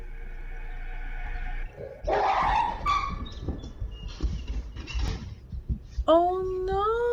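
A dog on a home security camera growls at a corner of a living room, then suddenly yelps in fright, with sharp high whimpering cries near the end over room noise and some background voices.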